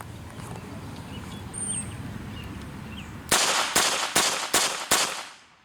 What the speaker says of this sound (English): This will be 5 shots, rapid fire, both hands.